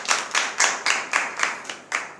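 A church congregation at a Hindi-language prayer meeting claps in unison, about eight loud rhythmic claps in quick succession, with no voices over them.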